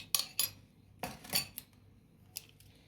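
A hand whisk scrapes and clinks against a bowl of orange cake batter, several sharp metallic strokes close by and uneven in rhythm, with quiet gaps between them.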